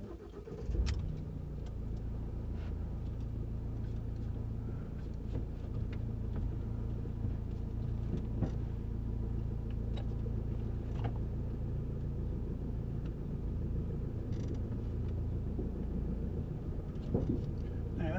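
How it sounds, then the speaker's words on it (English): A Ford Transit Custom Limited van driving on the road, with a continuous low engine and road rumble from inside the cab and occasional light knocks, steady throughout. "let's take the Transit Custom on a drive"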